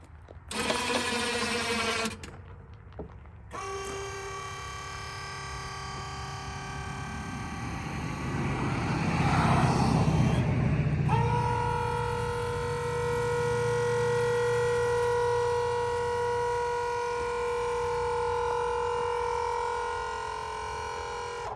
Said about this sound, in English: We also have the power angle attachment on it, so we're going to go ahead and actuate the unit.